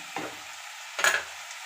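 Two short scraping stirs, one softer then a louder one a second later, as spice powders are mixed into a bottle gourd and raw mango curry, with faint sizzling in between.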